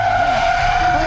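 A getaway car's tires skid and squeal loudly as it speeds off, a sustained close screech over engine rumble, with no talk.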